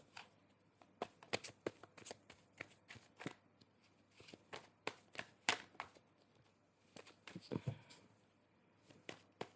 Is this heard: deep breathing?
no